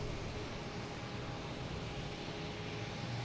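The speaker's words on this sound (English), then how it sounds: "We got JetBlue coming in from San Francisco" A JetBlue airliner arriving at Boston Logan from San Francisco produces a steady, broadband jet roar that stays even and continuous throughout, with no voices over it.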